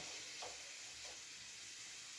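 Onion sizzles in a frying pan and carrots are poured in, a steady close hiss of frying with a couple of soft rustling bursts as the vegetables drop in, no talking.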